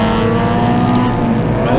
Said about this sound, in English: campaigning this little MGB Group S spec car